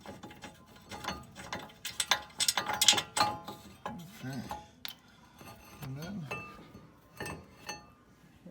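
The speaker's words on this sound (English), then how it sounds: "to take these two bolts off and take the calipers off" Ratchet working on the brake caliper bolts of a 2009 Toyota Corolla: irregular clicks and metallic clinks close by, with brief louder clattering bursts and scattered handling noises.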